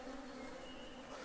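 Excited honeybees at a hive being smoked, giving a dense, continuous buzzing hum with no pauses, close and steady throughout.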